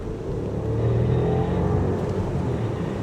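A 2021 Mercedes S 580 picks up speed with a smooth, steady low engine hum and road rumble heard from inside the cabin, quiet and even throughout.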